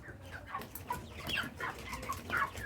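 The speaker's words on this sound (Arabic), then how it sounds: "الفراخ بدأت ان هي تاكل اهيت، لان الفراخ كانت جعانة" Hungry chickens feed on spice-coated feed, giving soft, close clucks and chirps over a low background rustle.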